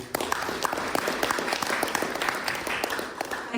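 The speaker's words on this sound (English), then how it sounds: "you probably deserve a round of applause for your community work as well" An audience claps at a boxing press conference, with sharp individual claps standing out over a steady wash of applause that keeps going at an even level.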